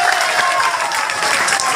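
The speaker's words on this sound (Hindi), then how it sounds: "मेरे प्रतिष्ठित सभी पदाधिकारियों का आप जोरदार ताली से एक बार स्वागत कर देना।" Loud, steady applause from a crowd at a political rally in Pakur, a dense wash of clapping that holds without a break from start to finish.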